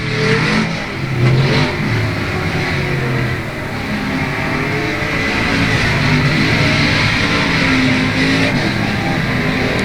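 Race cars roar around South Texas Speedway on the final lap, a loud continuous wash of revving engines with a dense, steady drone throughout and no pauses.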